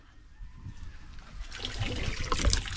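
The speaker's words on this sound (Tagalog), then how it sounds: "gripo. Maluwag yung tornilyo." Water trickles and splashes from a loose faucet with a loose screw in a home bathroom, starting faint and swelling into a steadier, louder flow.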